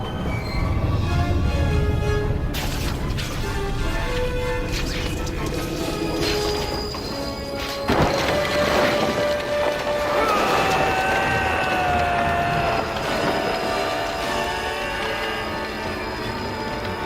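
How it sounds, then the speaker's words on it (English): A speeding train in the 2004 Spider-Man 2 video game gives a loud, continuous rolling rumble, with a sustained metallic wheel squeal rising partway through over dense, busy background sound. "I've got to stop this train."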